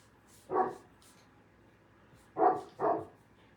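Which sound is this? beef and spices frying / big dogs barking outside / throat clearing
big dogs barking outside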